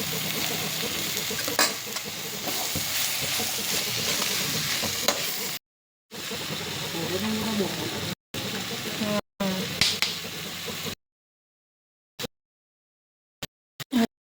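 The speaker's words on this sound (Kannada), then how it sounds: "ಕಟ್ ಮಾಡಿದ ಕಗ್ಗ ಟಮಾಟ ಹಾಕಿ ಹಿಂಗೆ ಮಿಕ್ಸ್ ಮಾಡಿ" Chopped tomatoes and onion are stirred in a hot pan, a steady close sizzle with scraping spoon strokes that breaks off into silence several times, with someone talking over it.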